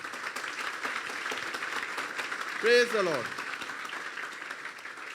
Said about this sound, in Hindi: फिर बजा दें तालियां यीशु के लिए।